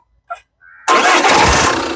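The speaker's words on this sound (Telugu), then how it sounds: "ఒకసారి మళ్ళీ మీకోసం ఇంజన్ స్టార్ట్ చేసి చూపిస్తాను" A 2018 Jeep Compass Limited Edition starts on the first crank: a brief chime and starter whir, then the engine catches and settles into a loud, steady idle close by.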